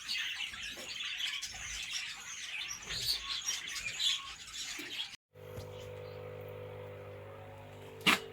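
Busy bird chirping and tweeting from several exotic birds at a bird farm in Rishton, bright and lively, then cutting to a steady low mechanical hum with a brief chirp near the end.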